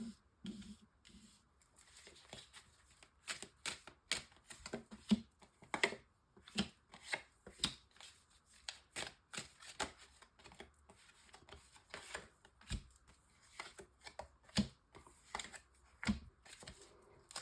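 Tarot cards being shuffled for a nine-card spread, a quiet series of rapid riffling and flicking bursts repeating irregularly with soft card handling between them, close and faint.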